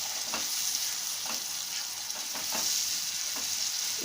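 Ground tomato puree from two small-medium tomatoes fries over a medium flame, giving a constant dense sizzle with soft periodic stirring scrapes, close and steady, no voices.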